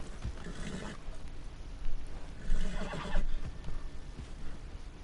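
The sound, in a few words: horse neighing in a video game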